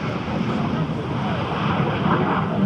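A classic de Havilland Vampire jet performs a roll at an airshow, its engine a steady broad roar with wind-like rush, loud and continuous throughout the short stretch.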